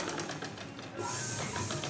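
Sewing machine stitching along a folded hem of cloth, a fast steady mechanical whirr with a brief slowdown in the middle before running on, close and without talk.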